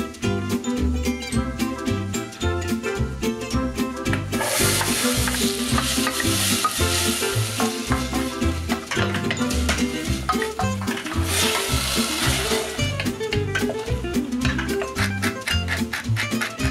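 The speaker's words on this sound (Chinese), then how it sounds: "食材放进去然后炒一炒" Food is stir-fried in a Thermos pan, with a loud continuous sizzle and rapid, rhythmic stirring scrapes and clatter throughout, swelling into brighter hissing bursts midway.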